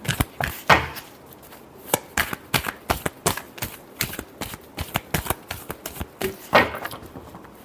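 A deck of tarot cards being shuffled by hand during a weekly horoscope reading, with a steady run of sharp riffling flaps and slaps over several seconds, close and fairly loud, with no voice over it.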